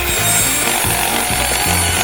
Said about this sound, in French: Maintenant, je vais couper toutes les aiguilles, je pourrai manger ce cactus. C'est facile et rapide de le faire avec une scie.